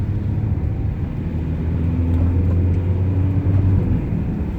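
A cheap Land Rover Freelander driving on the road, its engine droning low and steady from inside the cabin with a smooth gear change partway through, no voices.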